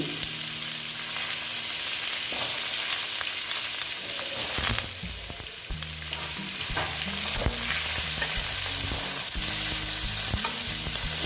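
Mixed vegetables with brinjal fry in a pan for a vegetarian kolmi greens dish, a steady close sizzle broken by repeated clattering stirs and scrapes of a spatula against the pan.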